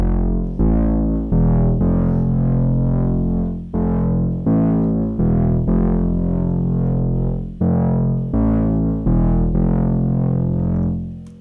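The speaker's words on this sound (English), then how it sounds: "you can hear a very organic, groovy bass that can fit in your melodic techno and deep house track very well" A melodic techno bass synth built in Vital plays a loud, groovy, distorted pattern of punchy repeated notes in a steady rhythm, alone and up front.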